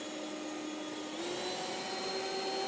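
A Stihl BGA250 battery leaf blower runs at full power with a steady whirring rush of air and a high motor whine that climbs slightly in pitch, heard up close and without talking.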